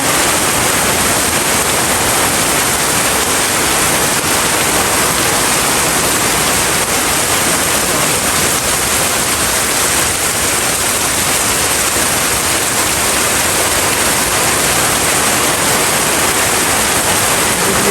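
Dense, steady roar of heavy rain pouring down, loud and unbroken from start to finish with no voices.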